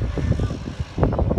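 Float plane propeller engine droning at Victoria harbour's float plane terminal, a steady low rumble heard at a distance, fairly loud throughout with some uneven swells.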